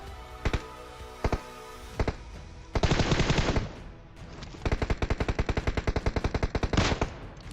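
Gunfire in PUBG Mobile: a few isolated shots, then a burst of rapid fire, a pause, and a long sustained string of automatic rounds, close and loud.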